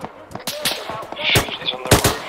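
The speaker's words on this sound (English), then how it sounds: "Machine gunner on the left hand side, on the right hand side, still up." Machine gun fire in Arma 3, several loud close bursts of rattling shots with scattered quieter gunfire and voices in between.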